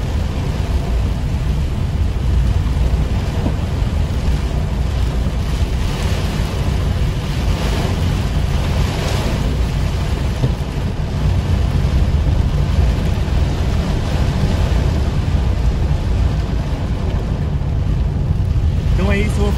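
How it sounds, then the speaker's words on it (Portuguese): Very strong wind gusts roar during a hailstorm in Nova Petrópolis, Rio Grande do Sul, Brazil, a loud, steady rushing with buffeting against the microphone and someone talking over it. "Vento muito forte."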